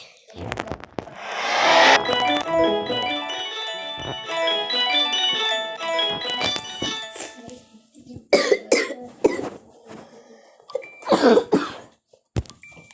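Several harsh coughing bursts from a person during a Roblox Ninja Tycoon gaming session, the first longer and a few shorter ones later, with game music and chiming tones playing between them.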